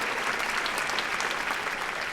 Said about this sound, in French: Ça s'applaudit également.